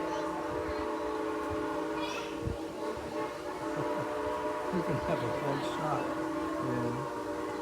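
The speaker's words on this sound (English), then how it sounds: "get to hear Thomas and 89 whistling at each other" A Strasburg Rail Road steam locomotive sounds its whistle as the train passes, with steady horizontal whistle tones held over continuous rumble through the clip, while people talk nearby.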